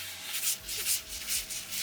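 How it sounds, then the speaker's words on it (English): Wet sanding on a turning wooden bowl on a lathe, grit worked back and forth in a soft, rhythmic rubbing swish, close and moderately loud, repeating about every half second with no talking. "I simply work the grit back and forth over the bowl."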